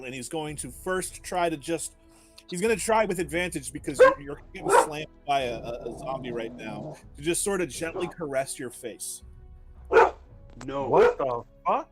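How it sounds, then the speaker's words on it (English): A pet dog barks a few times in a home while several people talk over it during a tabletop game session, the barks mixed in under steady conversation. "Sorry, guys, that's my dog."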